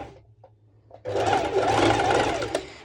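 A sewing machine stitches a mini skirt, starting after a quiet second with faint low hum, then running steadily and loudly for nearly two seconds.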